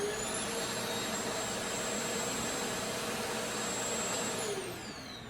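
A Milwaukee M18 3-in-1 cordless backpack vacuum runs on its high setting with a loud, steady rushing roar and a high motor whine, then begins to wind down near the end.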